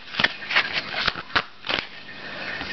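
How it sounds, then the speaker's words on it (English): A deck of angel oracle cards being shuffled by hand, with close, crisp riffling bursts at an irregular rhythm, fading to quieter handling toward the end. "So I'm just going to give the cards a shuffle"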